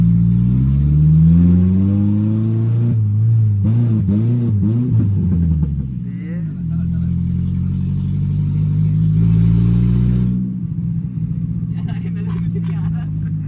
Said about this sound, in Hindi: हम बर्बल सुनाने की कोशिश कर रहे हैं लेकिन वो अब आपने इसके बर्बल सुनने, मेंटल बर्बल